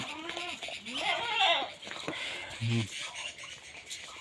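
Goats bleat a few times nearby amid faint rustling and soft rain patter, with a voice speaking now and then.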